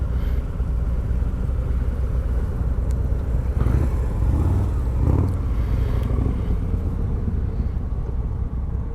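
A 2023 Harley-Davidson Street Glide Special 120th Anniversary Edition with the Milwaukee 8 engine rides past or along, a steady deep rumbling engine drone with slight swells, fairly loud and continuous, with no talking.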